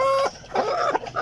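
Backyard chickens kept for breeding cluck close by in a few short, uneven calls, including one sustained tonal cluck at the start.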